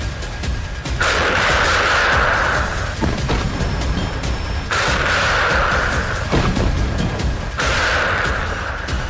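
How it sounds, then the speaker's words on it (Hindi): Repeated heavy booms of a TOS-1A thermobaric rocket launcher firing at roughly 4 km range against trenches and bunkers, with three long roaring bursts and rumbling between them. "लगभग 4 किलोमीटर तक मार करने वाला TOS-1A रॉकेट सिस्टम यूक्रेनी सैनिकों को खाइयों और बंकरों में जलाकर मार रहा है"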